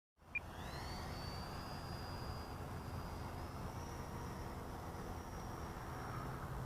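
An eFlite F-16 RC model jet with landing gear down, passing in front of the field with a steady faint turbine-like whine and rising tone over constant outdoor background noise.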